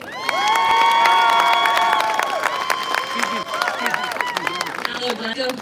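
Large outdoor crowd at a Scottish independence march and rally in Glasgow, loud sustained cheering, whooping and clapping that swells then gradually thins, with shouting voices mixed through.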